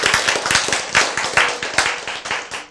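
An audience claps steadily and fairly close, many hands striking in a quick, dense rhythm for a few seconds with no voices over it.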